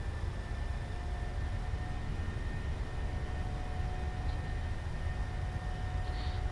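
Jet engines of a PMDG Boeing 737 spooling up for the takeoff roll in Microsoft Flight Simulator, a steady, even broadband roar with a faint whine on top, unchanging and continuous, with no voices.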